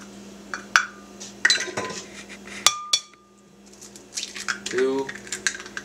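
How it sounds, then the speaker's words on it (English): Eggs are cracked and dropped one by one into a blender while baking a black bean chocolate cake, giving a few sharp clinks and taps against the container, close by, with a voice counting between them. "next we will put 3 of the eggs in the blender"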